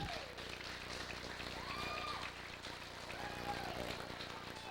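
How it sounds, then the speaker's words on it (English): A crowd applauds steadily at the NCW Arena during an NWA Wildside wrestling main event, a dense, even wash of clapping that continues throughout with a commentator talking over it. "Round of applause by the appreciative faithful here at the NCW Arena."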